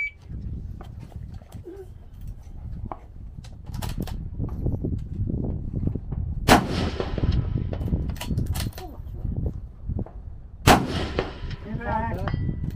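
Precision rifles firing at steel targets during a timed PRS match stage, several sharp loud reports spaced seconds apart over a constant low rumble, with faint distant impacts and a few faint voices.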